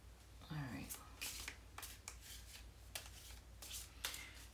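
Tarot cards are shuffled by hand in soft, quick riffles and rustling bursts. Quiet, close, and repeated throughout, with faint low room noise underneath.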